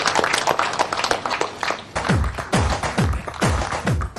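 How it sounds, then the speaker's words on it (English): An audience at a film press conference applauds Ajay Devgan and the Makkhi team with dense, continuous clapping, punctuated in the second half by repeated deep thumps. "Let's have a huge round of applause for Mr. Ajay Devgan and the entire team behind Makkhi."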